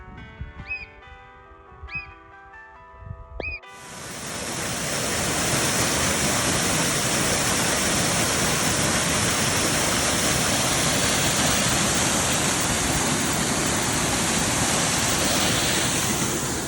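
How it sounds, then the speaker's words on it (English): Loud, steady rush of falling water in a mountain cirque along a trail near Mount Adams, Washington, filling the sound after a few seconds of quieter, tonal sound at the start. "Over there is the waterfall I took a picture of."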